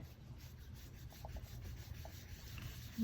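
A blending brush rubs blackberry ink onto a card, quiet, close, rhythmic scrubbing strokes of bristles on paper.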